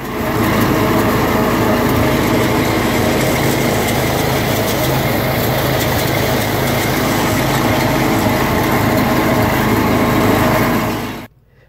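A John Deere 210 garden tractor engine runs steadily while plowing dead furrows at a plow day event, a loud, continuous close-up drone that holds without pause before cutting off abruptly at the end.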